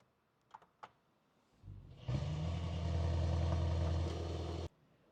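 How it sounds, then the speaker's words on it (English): A 2026 Mercedes-AMG GLS 63 is started normally with brake pedal and start button: a short cranking whir, then a loud engine catch that settles into a steady, deep idle for a few seconds before cutting off abruptly, close up with no talking. "You can do it just the normal pressing the brake and the start buttons."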